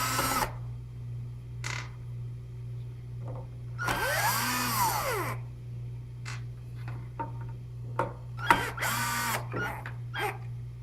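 Screws come out of a router base plate in short bursts of a power driver whirring close by, with a longer run in the middle, over a steady low hum.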